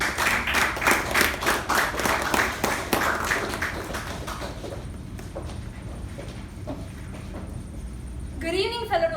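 An audience at a Toastmasters meeting claps in a dense burst of applause that thins out and fades over several seconds, leaving a quieter room and a voice starting to speak at the end.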